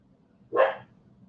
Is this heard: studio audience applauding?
no